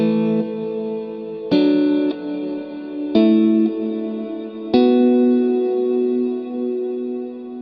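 Guitar chords played through a Fender Marine Layer reverb pedal on its hall setting at the longest reverb time, four struck chords each ringing out in a long, smooth, loud decaying tail.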